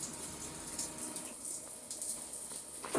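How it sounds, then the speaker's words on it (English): A cold water tap in an apartment runs steadily, its water hissing and splashing continuously at a low, even level with no talking. "you get hot water out of the cold water tap, and then it goes cold, then it goes warm."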